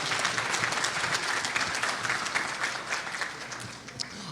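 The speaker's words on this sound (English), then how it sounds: "so please give them a round of applause" An audience at a summit on responsible AI claps for guests on stage, a dense, steady round of applause with many hands, moderately loud and fading slightly toward the end.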